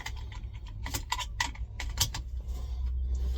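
A seat belt latch in a truck cab clicks several times during a pre-trip inspection, a quick series of sharp snaps over a low engine rumble.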